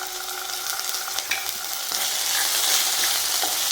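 A small spoonful of green peppercorns sautéing in a pan for malai chicken produces a close, steady frying hiss with a few soft stirring knocks.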